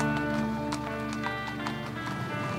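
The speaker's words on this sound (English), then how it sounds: "And we've got the horses as well now." Horses move along a fox hunt route with a quick, steady clip-clop of hooves, close and continuous over a droning engine-like hum.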